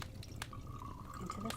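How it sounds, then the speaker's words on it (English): Blessed water poured into a cup: a soft, steady trickle with a faint rising filling tone, quiet and close, with a few light drips. "What I'm going to do is pour some of this blessed water"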